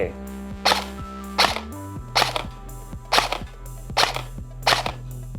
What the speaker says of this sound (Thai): อ่ะ ลองยิงดูก่อนนะครับผม